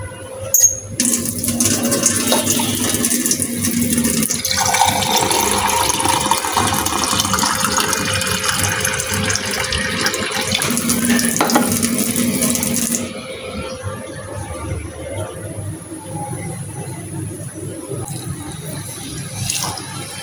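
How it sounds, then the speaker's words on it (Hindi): Water poured from a bottle into a pot of cooking chicken, a steady close rushing splash lasting about twelve seconds before dropping to quieter kitchen sounds. "चिकन में मैं अभी पानी डाल देती हूँ थोड़ा सा।"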